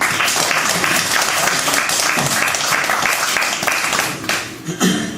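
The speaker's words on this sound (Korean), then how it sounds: "하나님께 영광의 박수 돌리겠습니다" A church congregation claps together during a Sunday worship service, a steady, full round of applause that tapers off near the end, with no voices over it.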